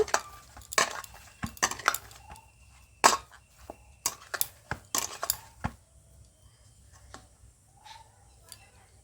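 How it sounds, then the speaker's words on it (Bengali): Dough being cut into small portions with a knife in a home kitchen: a close series of sharp taps and clicks against a board, irregular and quick at first, then thinning to a few scattered knocks. "এবার আমি এইটা লেচি কেটে নেব।"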